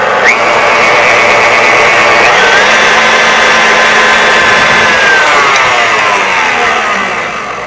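Electric mixer whipping egg whites with cream of tartar in a bowl, a loud continuous motorized whir close by that holds steady for several seconds before easing off at the end.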